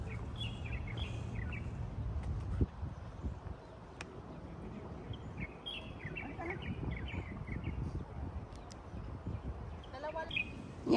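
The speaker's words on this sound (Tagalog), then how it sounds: "Ang ganda ng huni ng ibon," Birds sing and chirp outdoors along a trail, scattered high calls and tweets over steady wind and rustling noise, moderately distant, with footsteps and handling sounds throughout.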